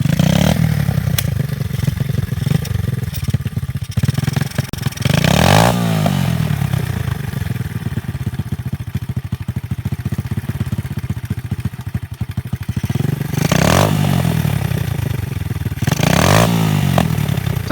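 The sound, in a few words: 110cc Stomp pit bike engine running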